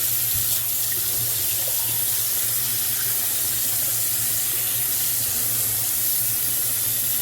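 Water runs steadily from a newly installed kitchen faucet into the sink, a continuous close hiss and splash that holds even throughout with no voices.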